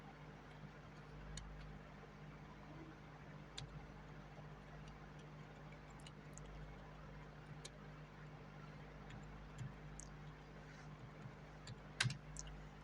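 Quiet typing of HTML code on a computer keyboard, with sparse, irregular key clicks heard faintly over a steady background hum and no speech.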